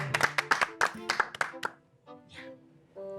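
An audience at a senior talk-show church event claps briefly to welcome two singers, a quick run of sharp, close hand claps that fades out, followed by a short stretch of faint voices.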